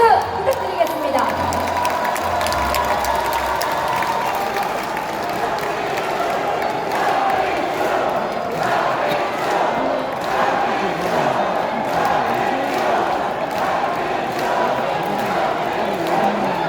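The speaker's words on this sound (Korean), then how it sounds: "큰 박수 부탁드리겠습니다." Crowd at a Democratic Party regional convention in North Jeonbuk cheering, shouting and clapping loudly and continuously in a large hall, a dense roar with a few voices rising above it.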